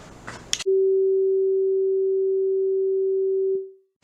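A single pure, steady tone, set at 384 hertz, sounds over a resonating tube for about three seconds, then fades out smoothly after a brief clatter at the start.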